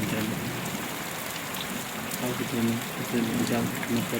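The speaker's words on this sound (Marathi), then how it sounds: "भारी पाउस सुरू होते हैं" Heavy rain pours down at night on a farm as a dense, steady hiss, with someone talking over it.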